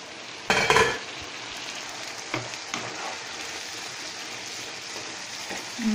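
Tomatoes fry in a pan for tomato chutney with a soft, steady sizzle, broken by a few brief stirring scrapes, with no talk.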